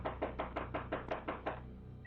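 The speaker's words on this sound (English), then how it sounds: "the loud banging was enough to alert the homeowners" Loud, heavy banging on a house door: about eight evenly spaced forceful knocks in quick succession, close and with no voices, from a doorbell camera recording at a home next to a house fire.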